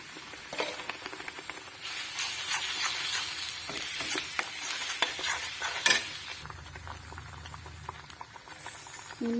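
Frying and stirring in a pan while cooking an Assamese bhedailota curry: a close, steady sizzle with repeated scraping spoon strokes, quieting to a softer simmer toward the end, with no talk.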